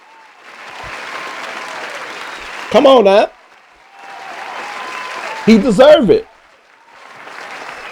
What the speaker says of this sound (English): Let's give Cam Jordan a round of applause